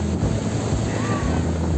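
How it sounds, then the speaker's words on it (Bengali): Strong wind and sea waves at Kuakata beach under a cloudy sky, a loud blustery rumble of wind buffeting the microphone over the wash of surf, with no talking. "ওয়াও, অনেক বাতাস,"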